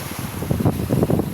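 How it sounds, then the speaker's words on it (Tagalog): Strong wind gusts and rough sea waves pound the shore during bad weather, a steady loud rush of surf and wind buffeting the microphone with no voices. "malakas ang alon"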